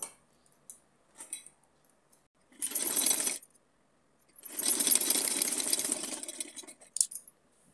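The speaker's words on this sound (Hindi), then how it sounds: "तो चलिए सिलती हूँ पहले इसको" Sewing machine stitching a fabric strip for a Laddu Gopal dress, two runs of close, steady mechanical whirring, a short burst then a longer one, with small clicks between and no talk.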